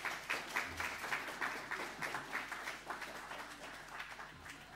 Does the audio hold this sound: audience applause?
yes